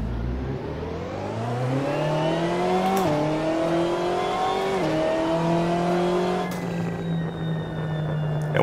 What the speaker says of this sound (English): Nice engine note from that twin turbo V8.